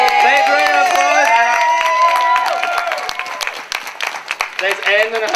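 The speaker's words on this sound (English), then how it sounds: "Big round of applause!" An audience breaks into applause and cheers after a sung introduction, starting as dense clapping with excited voices, then thinning out to scattered claps and chatter toward the end.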